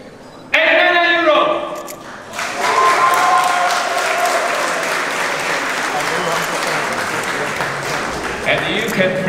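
An audience applauding as a phone's price is announced at a product launch, a loud, dense spread of clapping that builds and continues steadily under a presenter's amplified speech.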